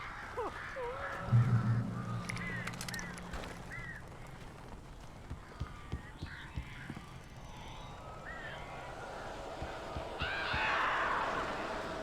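Crows cawing inside a cabin in the video game Alan Wake Remastered, with scattered harsh calls over a murky ambient bed, a low rumble early on and some clicks and thumps.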